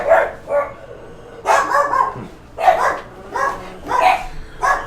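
Several dogs bark at someone at the door in loud, repeated bursts of rough, overlapping barks, grouped into about five clusters with short pauses between them.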